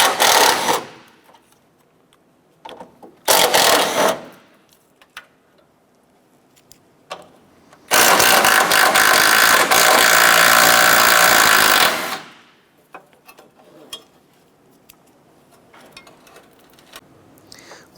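Ratchet with a 13mm socket backing out bolts on a side bracket of a 2006-2013 Chevrolet Impala during starter replacement, heard as three separate bursts of rapid clicking, the longest lasting about four seconds, close and loud.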